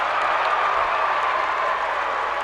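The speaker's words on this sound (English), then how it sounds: "Both sides erupting after that whistle. Applause from West Point Beemer" Spectators at a girls' high school state championship basketball game between Lincoln Christian and West Point-Beemer applaud after a jump ball whistle, a dense, steady wash of clapping filling the gym from start to finish.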